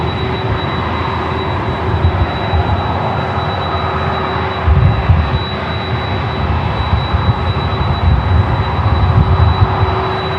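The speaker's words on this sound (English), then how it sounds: "MSC Air Cargo flight 1337 coming in from Mexico City, 777 freighter, 3 minutes out," MSC Air Cargo Boeing 777 freighter arriving at LAX from Mexico City, a loud sustained jet roar with steady tonal whine and rumbling swells, heard outdoors without talk.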